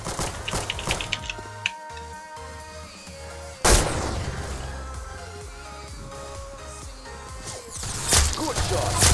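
Gunfire in a video game comes as rapid sharp taps and bursts, with a heavy boom near the middle and dense clattering shots throughout, while a player talks excitedly over the action.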